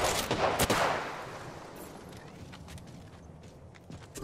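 Gunfire in a shooter game, an attacking squad firing with a loud close burst at the start, then scattered softer shots and footstep-like taps trailing off into the distance.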